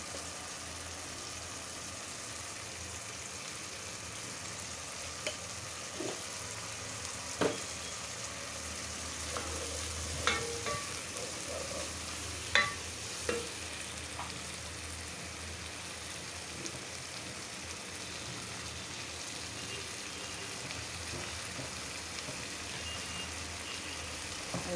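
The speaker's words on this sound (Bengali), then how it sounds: "মশলাটা কষানো হয়ে গেছে" Spice masala with tomato fries in a pan, a soft continuous sizzle like light rain broken by occasional sharp clicks from a stirring utensil.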